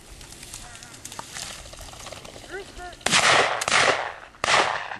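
Shotgun blasts ring out during a pheasant hunt, three loud sharp reports close by in quick succession after a quieter stretch with faint voices and rustling.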